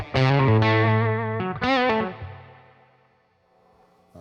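Electric guitar chords ring out through an Albion TCT-35C amp with a spacious digital reverb, a few strums followed by a long decaying tail fading into quiet.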